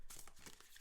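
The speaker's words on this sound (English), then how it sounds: "I'm shuffling my cards." Tarot cards being shuffled by hand, a faint, soft run of papery riffles and brushing taps in quick irregular rhythm, close by and alone.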